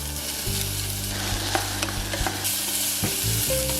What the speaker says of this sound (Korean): 냄비에 기름을 두르고 야채들을 한꺼번에 볶아주세요.